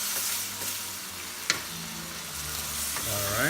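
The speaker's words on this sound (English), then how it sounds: "Let's give it a good stir." Stir-fry vegetables with oyster sauce being stirred in a hot pan: a steady sizzle with a few scraping utensil strokes and one sharp clink, close and moderately quiet, no voices.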